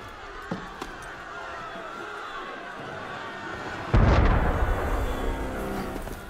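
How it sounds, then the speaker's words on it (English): Cannon fire in the video game Assassin's Creed Unity, a single heavy boom landing partway through with a rumbling tail over ambient crowd noise. "That was cannon fire."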